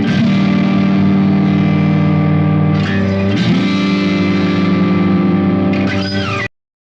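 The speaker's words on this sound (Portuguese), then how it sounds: "Crunch é uma distorção moderada que adiciona textura e calor ao som." A steady, sustained instrument tone runs through a moderate crunch distortion effect, dense and gritty with layered harmonics, shifting pitch a couple of times before cutting off abruptly near the end.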